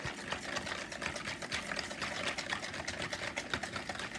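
A spoon stirs melted butter and sugar together briskly in a pan for a coconut demi-lune cake, making a steady rhythmic scraping and sloshing close by with no voices.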